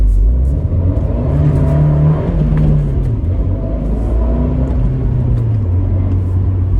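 Fiat 124 Spider Abarth with a six-speed manual, driven in sport mode, pulls hard with a loud, close engine drone that rises and falls through revs over a steady road rumble.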